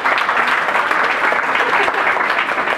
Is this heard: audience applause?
yes